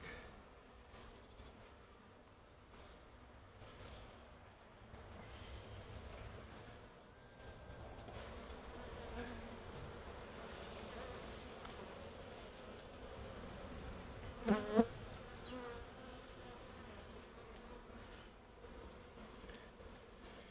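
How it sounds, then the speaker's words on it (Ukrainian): A steady, low buzzing drone of honey bees at an open hive fills the air continuously, soft and even, with a faint wind-like hiss and one brief knock midway. "бджоли з'єдналися нормально"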